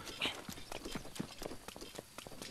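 Quick, light hoof clops of a horse in Zelda: Breath of the Wild, in an uneven trotting rhythm, fairly faint, with a soft voice briefly underneath.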